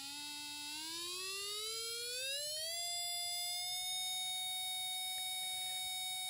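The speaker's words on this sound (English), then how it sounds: "you can hear it gets quieter and louder with the output" An audio function generator produces a pure steady tone that sweeps smoothly upward in pitch, then settles on a constant higher note, loud and close with no other sound.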